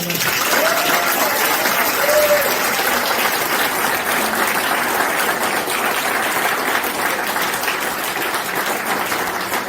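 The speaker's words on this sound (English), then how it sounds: "Ladies and gentlemen, give another round of applause for Mark." Reception crowd at an athletics club event for a European Championships runner applauding, sustained dense clapping that stays loud throughout, with faint voices underneath.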